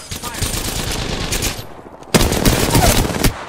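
Loud, close automatic gunfire in the video game Apex Legends comes in two sustained rapid bursts separated by a brief lull.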